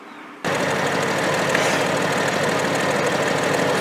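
A C4 Corvette with a Flowmaster exhaust idles steadily, its rumble starting abruptly and then holding a constant, close, loud level throughout with no speech.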